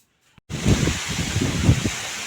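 Strong outdoor wind blows in gusts after a sudden start, with steady broadband rustle and low buffeting rumble against the microphone, loud and continuous, with no talk.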